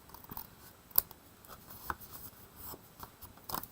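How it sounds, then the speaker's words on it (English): Scissors snipping paper to trim a folded craft piece, a series of quiet, sharp cuts spaced irregularly about every half second, close up and alone. "I'm just going to come through and use my scissors and clean that up"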